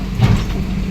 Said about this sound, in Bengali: ট্রেন থেমে গিয়েছে তো।